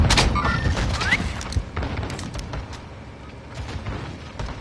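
Gunfire trades back and forth in a video game firefight, with a burst of rapid shots at the start, then scattered booms and thuds under game noise.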